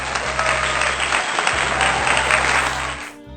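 A crowd of hands applauds the winning pitcher of the Hiram Johnson varsity baseball team, a dense, steady wash of clapping that holds for about three seconds, then cuts off abruptly.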